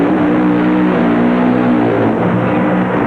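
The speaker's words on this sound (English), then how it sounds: "that car of Mark Oswald sounds wonderfully powerful" Mark Oswald's drag racing car from the 1988 NHRA Mid South Nationals in Memphis roars through a burnout, a loud, sustained engine blare with harsh harmonic drone and no pauses.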